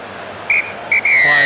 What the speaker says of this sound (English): referee Ligote blows the whistle to bring the first half to a close